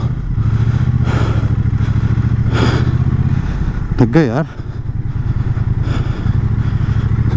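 A heavy motorcycle rides through Rajasthan, its loud, close engine thumping steadily throughout, with a brief revving rise in the middle and someone speaking over it.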